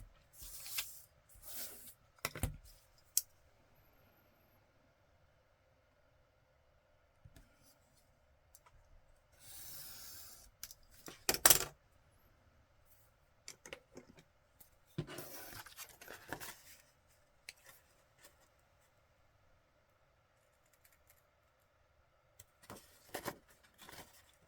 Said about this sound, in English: And then on this side, the front side, I'm going to cut, being careful not to cut too far.